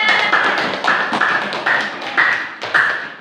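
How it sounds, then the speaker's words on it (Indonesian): Students in a classroom clap in unison for a student group's work, a rhythmic pattern of sharp, close claps in evenly spaced bursts, with no talking. "Oke, tepuk tangan"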